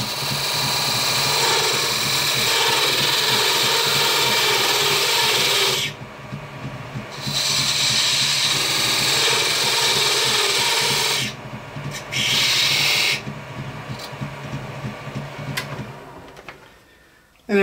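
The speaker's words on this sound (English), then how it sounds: "I have this small little parting tool here, and I'm just going to add those indentations to our fuel tank" Small parting tool scraping indentations into a wooden toy dump truck's fuel tank, a dense continuous rasping rub close up, broken by two short pauses and a brief stutter near the end.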